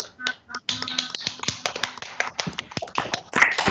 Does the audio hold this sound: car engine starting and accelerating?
no